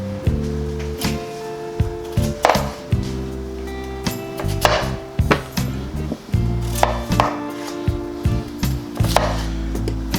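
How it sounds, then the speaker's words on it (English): Knife chopping vegetables on a cutting board for Mexican albondigas meatball soup, a steady run of close, crisp strikes with short pauses between them. "So let's go ahead and cut those up and get them in the pot"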